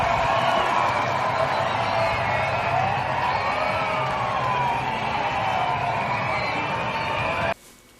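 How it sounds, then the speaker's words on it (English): A large outdoor protest crowd in Glasgow, Scotland roars and cheers continuously, a dense wash of many voices with a rising wail in the background, cutting off abruptly near the end. "A huge protest crowd in Glasgow, Scotland."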